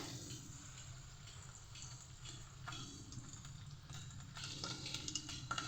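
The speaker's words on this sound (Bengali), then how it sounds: "তেল গরম হয়ে যাওয়ার পরে আমি এগুলো ছোট ছোট করে গোল গোল করে দিয়ে দিচ্ছি ফুরুলির আকারে" Small balls of ripe banana fritter batter fry in hot oil, giving a soft continuous sizzle and patter that grows a little busier toward the end, close but quiet, with no talking.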